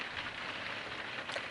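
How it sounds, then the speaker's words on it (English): Heavy rain drums on the roof of a caravan, a steady dense hiss of drops close overhead that runs unbroken throughout, with no voices. "It's absolutely hammering it down this morning, which is really nice in the caravan."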